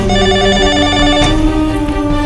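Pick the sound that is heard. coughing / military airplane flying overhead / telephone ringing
telephone ringing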